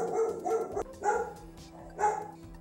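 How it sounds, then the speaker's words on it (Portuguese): Dogs barking nearby in a house setting, three separate bark bursts spaced about a second apart, moderately quiet, with no speech. "vai ter barulho dos cachorros aí"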